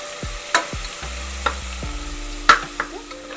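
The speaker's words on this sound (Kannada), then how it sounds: "ಟೊಮೊಟೊ ಇದೆಲ್ಲ ಶುಂಠಿ ಬೆಳ್ಳುಳ್ಳಿ ಪೇಸ್ಟ್ ಈರುಳ್ಳಿ ಸ್ವಲ್ಪ ಹುರ್ಕೊಳ್ಳೋಣ" Tomato, ginger-garlic paste and onion frying in a pan for egg biryani, with a few spoon scrapes and soft sizzling bursts spread over a quiet background, no talking.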